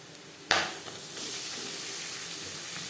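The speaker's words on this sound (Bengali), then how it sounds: "পেঁয়াজ অবশ্যই লালচে করে ভেজে নিতে হবে" Chopped onion drops into hot oil in a pan and bursts into a loud sizzle, then settles into a steady, close frying hiss with faint stirring, no voices.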